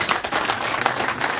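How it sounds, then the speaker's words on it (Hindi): A crowd at a BJP political gathering claps to welcome a speaker, a brief, busy patter of many hands at moderate loudness without any spoken words. "टीकू खान साहब तालियों से इस्तकबाल करें"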